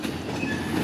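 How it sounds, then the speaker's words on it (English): A short train rolls past on the railway, a steady, dense rumble of wagons with faint clickety-clack from the wheels, close by and continuous with no voices. "Thought I would give you this little video here of another short train."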